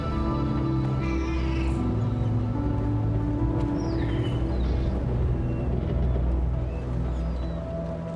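A cat meows several times in the video game Death Stranding 2, with short, mid-pitched cries spread over a steady low ambient drone.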